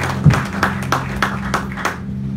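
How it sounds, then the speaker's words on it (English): A church congregation clapping hands at a morning service, a short, light run of about six evenly spaced claps over a low, steady hum, with no talk. "Give a hand clap to the Lord, this wonderful morning."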